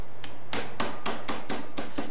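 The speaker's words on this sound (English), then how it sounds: "We'll pound them out with our little hammer." Sharp, evenly spaced blows of a meat hammer pounding pork tenderloin for a wild game recipe, eight strikes in a steady rhythm, close and loud with no talk.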